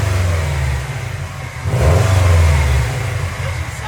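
Subaru STI fitted with a louder exhaust revs up, a deep, bassy engine roar that rises and swells midway before easing off, close and loud over about four seconds.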